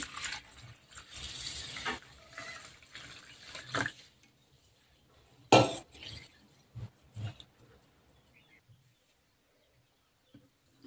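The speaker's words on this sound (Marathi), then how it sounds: "आता आपण याच्यामध्ये पाणी टाकून घेऊ आणि स्वच्छ दोन ते तीन पाण्याने धुवून घेऊ" Rice is washed in water in a vessel for steamed papad, giving irregular sloshing splashes and swishes in several bursts, louder early on and then sparse, faint rinsing.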